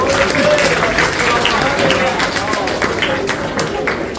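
Audience applause at a Hindi kavi sammelan poetry gathering, a steady wash of many hands clapping close by for a few seconds, with voices and chatter mixed in underneath.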